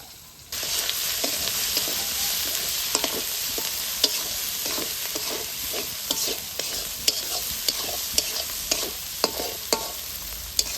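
Spice masala with Kashmiri chilli and salt is sautéed in a pan for a goat meat curry. A steady sizzle starts abruptly and runs throughout, broken by frequent scraping and clinking spoon strokes against the pan.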